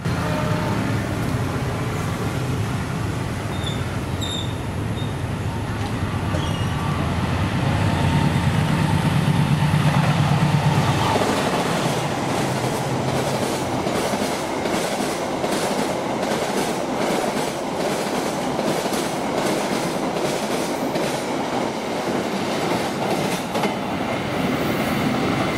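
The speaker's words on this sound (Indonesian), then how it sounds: "abis kereta api Mataram 135B lewat Klari" The Mataram 135B passenger train rolls through Klari station, a loud, sustained rumble with steady clickety-clack of wheels over rail joints, louder early and then continuing as carriages pass.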